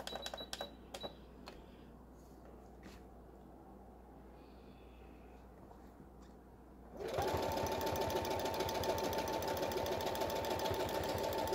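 A Brother XR3340 sewing machine sewing a decorative quilting stitch: a few light clicks and quiet handling, then the motor starts and runs a steady, fast, close mechanical whir with rhythmic needle chatter.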